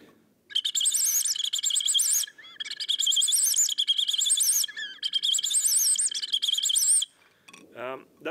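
A Klausen No. 3 predator call imitating a distressed bird blows three long, shrill, warbling squeals separated by short pauses, loud and close, then a brief lower squeak.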